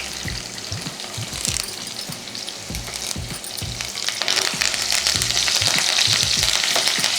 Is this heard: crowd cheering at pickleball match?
no